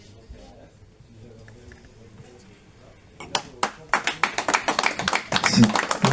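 After a quiet stretch with a low voice, a small group at a Paris literary café breaks into brisk, close applause that builds and continues to the end.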